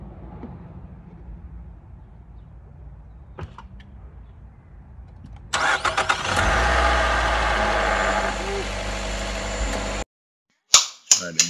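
A Nissan Altima engine starts and runs loudly in a salvage yard, a dense steady roar with a low rumble after quieter rustling and a couple of sharp clicks, then it cuts off abruptly, followed by a few clanks.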